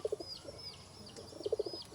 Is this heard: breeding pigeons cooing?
yes